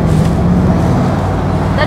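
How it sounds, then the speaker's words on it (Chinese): A Mercedes G63 AMG V8 with side-mounted exhaust pipes drones steadily from inside the cabin, a deep, continuous rumble with little change in pitch throughout. "这个八缸的声音还是挺好的"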